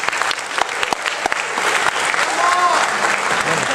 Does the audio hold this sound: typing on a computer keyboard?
no